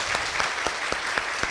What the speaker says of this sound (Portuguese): Palmas para o pessoal de Cotia.